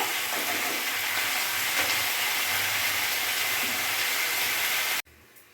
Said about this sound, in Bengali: আমি এভাবে কিছুক্ষণ ভেজে নেব।